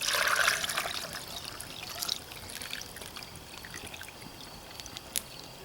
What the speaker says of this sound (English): Add this marinade here.